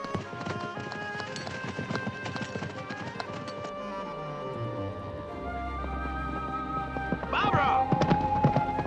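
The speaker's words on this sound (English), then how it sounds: "You don't just go galloping ahead all over the countryside like this." Horse hooves clip-clopping at a gallop across open countryside in a 1987 period drama, a steady rhythmic beat mixed under music, with a sustained whinny-like tone near the end.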